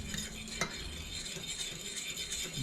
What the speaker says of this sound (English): you want to keep stirring it because you don't want it to